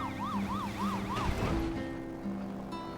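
An ambulance siren wails in the Poly Bridge 2 video game, a steady rising-and-falling electronic cycle over vehicle engine hum, loud and close, then cutting out partway through with no talking.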